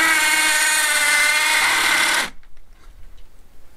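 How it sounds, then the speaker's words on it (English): A loud, steady high-pitched power drill whine grinding into a piece of marble for about two seconds, then cutting off abruptly to near silence. "So I might have to get a bigger drill out."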